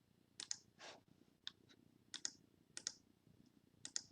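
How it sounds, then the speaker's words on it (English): Computer mouse clicking in quick irregular bursts, several sharp double clicks and single taps spread over a few seconds, close and quiet with no talking. "Now I'm clicking too fast and it won't keep up."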